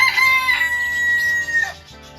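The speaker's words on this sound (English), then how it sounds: "a rooster that was making a lot of noise" A rooster crows loudly and close by, one long strained call that trails off into quieter sounds.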